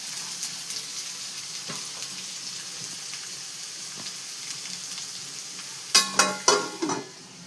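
Five onions dropped into heated oil while cooking mutton, giving a steady close hiss of frying throughout, followed by a few louder clattering stirs near the end.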